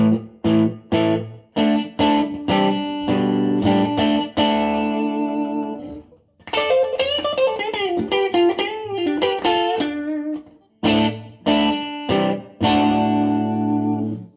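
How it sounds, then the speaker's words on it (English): An electric Gretsch guitar plays through a vintage Marshall amp with short room reverb, giving strummed chords, then a run of single-note lines, then more chords, loud and up close with no talk. "This is a room reverb, which is notoriously quite short."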